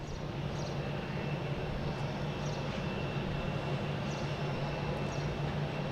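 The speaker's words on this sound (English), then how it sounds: "next coming in, we have a Delta coming from Atlanta, 757" A Delta Boeing 757 arriving from Atlanta at Boston Logan International Airport gives a steady, broad engine roar with a low hum beneath, constant and moderately distant, with no talking.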